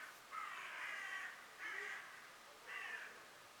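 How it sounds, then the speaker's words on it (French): Crows cawing outdoors at some distance, three separate bursts of harsh repeated calls over a quiet background, with no talking. "Vous entendez les corbeaux?"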